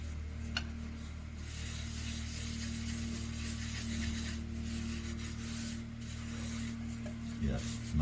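Finish is wiped onto a turned maple lidded bowl with a cloth, making a steady, soft close rubbing hiss over a low background hum, with a few brief scuffs.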